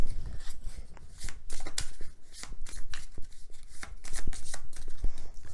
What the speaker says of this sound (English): So now we shuffle.